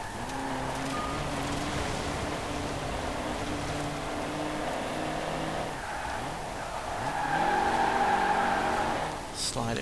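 A race car slides through a corner in Forza Horizon 4 during a seasonal championship, with tires squealing over a steady, loud engine drone that rises toward the end, while a voice talks over it.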